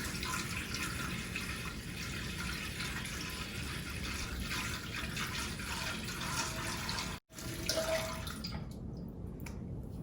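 Water from a tap runs steadily into a pot for steaming a pudding, a continuous close splashing hiss that briefly cuts out and then resumes.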